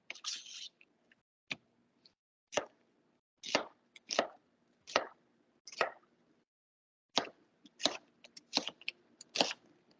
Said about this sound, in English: So I'm just going to chunk up my onion, and we're using 1 whole onion.